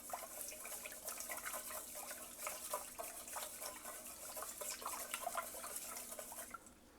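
Tap water running steadily while rice is rinsed in a kitchen sink, a soft continuous splash with small clinks and drips throughout, fairly quiet and close, no voices.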